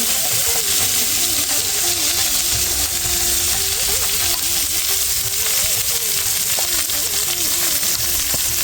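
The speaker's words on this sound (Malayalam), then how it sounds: "ഉണക്കമുന്തിരി കഴുകി ഇത് നെയ്യിലോട്ടിട്ട് വറക്കണം." Raisins fry in ghee with a steady, close sizzle that runs unbroken throughout, while a voice talks over the crackling pan.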